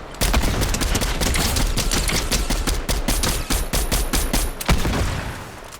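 Gunfire from a weapon in a shooting video game. Dense, rapid shots crackle without a break, loud and close, with no talk over them.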